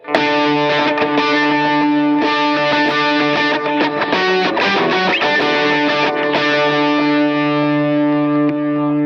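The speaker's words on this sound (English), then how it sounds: "the overdrive pedal sounds like this." Electric guitar through an overdrive pedal on a Line 6 POD Go, with a gritty tone, plays a sequence of chords and notes, sustained and fairly loud, with no voices.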